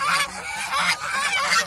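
Geese honk on a duck and goose farm in Mohanganj, Netrokona, a loud flock calling in repeated overlapping bursts close by, with no talk.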